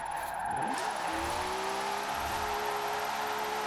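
A 500-horsepower Mona Lisa drift car from a racing video game revs hard while sliding sideways, its engine note climbing and holding steady over a constant tire and exhaust roar.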